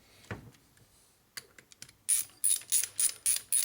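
A ratchet clicks in quick, even bursts while bolts are tightened on a 2001 Indian Scout motor with an 88ci S&S big bore, preceded by a few scattered tool knocks, close and crisp.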